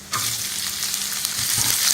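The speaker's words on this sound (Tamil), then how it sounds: "இப்போ நம்ம கட் பண்ணி வச்சிருக்கிற வெங்காயம் போட்டுக்கலாம்." Chopped onions for a beans poriyal hit a hot pan and burst into a loud, steady sizzle that holds close and even for the rest of the moment, with no talking.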